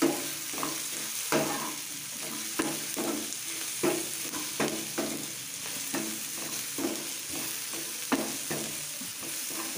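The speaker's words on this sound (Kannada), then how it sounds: "ಇವಾಗ ಇದನ್ನು ಮಿಕ್ಸ್ ಮಾಡಿಕೊಂಡು ಫ್ರೈ ಮಾಡ್ಕೊಳ್ಳೋಣ." Tomatoes sizzle in a pan for capsicum curry while a spoon stirs them, giving a soft continuous frying hiss broken by regular scraping strokes, close up and without speech.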